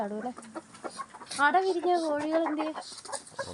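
Chickens cluck and murmur close by, a run of rising and falling calls mixed with other faint farmyard noise.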